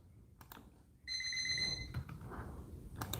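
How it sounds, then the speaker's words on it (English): An electronic alarm sounds suddenly and loudly with a steady multi-tone beep, holding for nearly a second before cutting off, over low room noise. "Well, the alarm's working."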